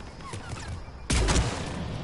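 A rifle opens fire in the Mass Effect 3 video game: quiet game ambience and faint sounds first, then a sudden loud burst of shots about halfway through that carries on to the end.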